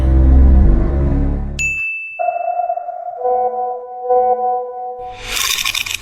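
A cartoon phone message notification plays as a bright ding followed by ringing sonar-like tones that sustain for several seconds, loud and alone after a brief low rumble, with no talk.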